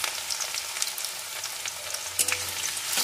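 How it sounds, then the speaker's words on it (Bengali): Dried chilli and chopped onion fry in a hot pan, giving a steady close sizzle with faint crackles and a brief stir or scrape near the end, no voices. "এটাকে একটু লাল লাল করে নিয়ে তার ভিতরে দিয়ে দেবো একটা পেঁয়াজ কুচি"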